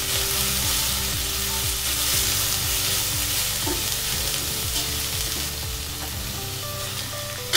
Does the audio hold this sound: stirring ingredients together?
yes